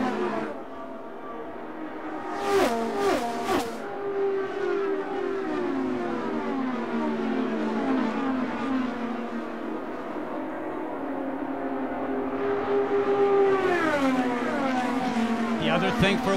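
IndyCar race cars whine around an oval track late in a race, high engine notes sweeping past repeatedly with Doppler shifts, under continuous commentary.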